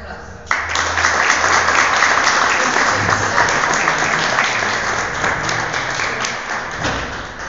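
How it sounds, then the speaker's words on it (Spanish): A theatre audience at a fine-arts award ceremony for children's and youth plays breaks into loud applause that starts abruptly and holds steady, with a few low thumps mixed in, then tapers slightly toward the end. "Un fuerte aplauso."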